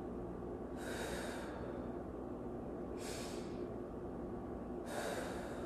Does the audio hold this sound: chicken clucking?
no